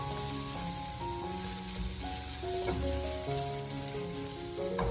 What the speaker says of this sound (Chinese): 然后再继续的开大火，给它快速的翻炒，把它翻炒均匀